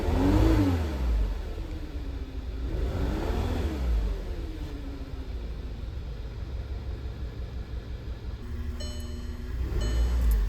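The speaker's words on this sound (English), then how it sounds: "cylinder number 1 is continually misfiring" A Volkswagen Tiguan engine idles with one cylinder continually misfiring, giving a steady loud running drone with uneven pulsing, close by and with no voices.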